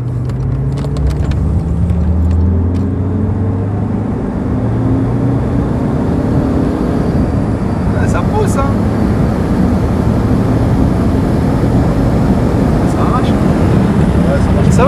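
A Peugeot RCZ drives along a winding mountain road, its engine a steady loud drone with shifting pitch as it accelerates and changes gear, heard from inside the car with people talking over it throughout.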